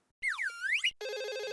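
A telephone rings in a home: a loud electronic warbling tone sweeps up and down, then a steady buzzy ring follows after a brief gap, with no talk over it.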